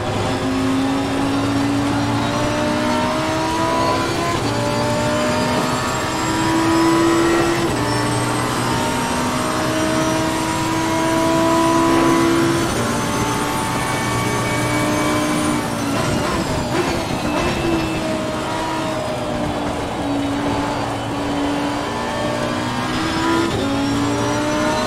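A race car engine in Assetto Corsa Competizione, driven in rain, drones loud and close throughout, its pitch rising and falling through gear changes with sustained revving and no talk over it.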